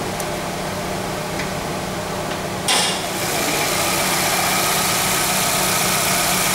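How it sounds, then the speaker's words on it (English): A car engine idles with a steady low hum and mechanical rattle, a brief burst of noise partway through, then continues evenly. "I'm just gonna show you the engine now while it's running."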